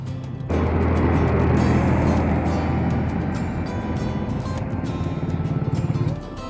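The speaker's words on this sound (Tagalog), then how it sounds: "napakalalaki ng mga nakakasalubong at nakakasabayan natin mga sasakyan" A large vehicle roars past a touring motorbike on a steep mountain road in Ifugao, a loud engine rumble that swells quickly, holds, then fades, with traffic noise continuing underneath.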